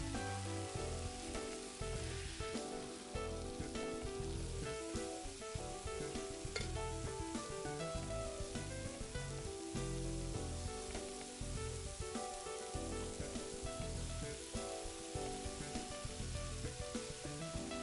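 Fries frying in preheated oil in the video game Chef Life, a steady, dense crackling sizzle that carries on unbroken without any talk.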